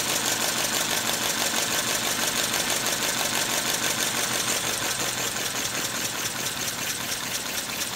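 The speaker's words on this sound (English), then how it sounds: "You can see it does run pretty quiet. It'll probably idle down even a little bit slower than that." A compressed-air V8 engine idles steadily, a dense, fast mechanical chatter with a busy, rattling hiss that holds an even level throughout with no talking.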